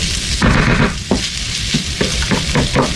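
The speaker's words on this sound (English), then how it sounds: "The pancetta is going to crisp up, and then some of these fatty pieces are going to reduce" Finely diced cured pancetta sizzles and renders its fat in a hot pan. A steady, close frying crackle runs throughout with bursts of stirring scrapes, and no voices.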